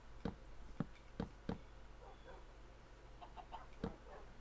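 Blocky game chickens cluck in a Minecraft PlayStation 3 Edition farm: about five short clucks at a moderate distance over a steady low hum, with fainter soft chirps in between.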